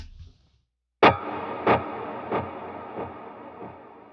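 An electric guitar played through an ambient reverb snapshot with a long decay: one struck chord followed by a few softer repeating echoes that fade slowly into a washy tail.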